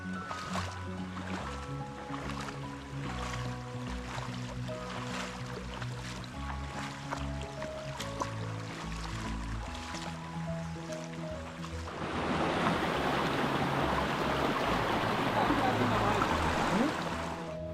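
A hill stream in Madhabkunda Eco-park, the Gangamara chhara, runs swollen after overnight rain. Soft tonal sound lies over the first part, then loud, close rushing water takes over as a steady broadband roar.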